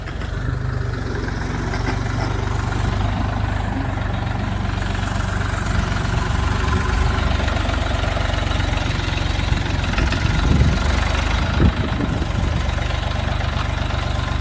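A DongFeng DF 244 DL mini tractor engine idles steadily and close by, a low rumbling drone with a faint mechanical rattle, holding even throughout with a brief louder knock near the end.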